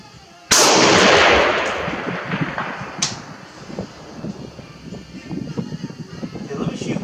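A single sharp, loud crack from a 5.56 SDM-R rifle fired on an outdoor range, followed by a fading echo and a faint distant report, with a voice talking softly afterward.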